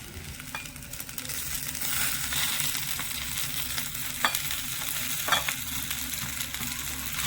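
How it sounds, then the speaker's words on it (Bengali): Mashed potato and spices are stirred and scraped in a hot frying pan for an aloo chop filling, with a steady gentle sizzle and occasional louder scrapes of the spatula against the pan. "ভালো করে নেড়ে ছেড়ে মিশিয়ে নেব এখানে আলুটাও নেড়ে ছেড়ে খুব সুন্দরভাবে মিশিয়ে নিয়েছি"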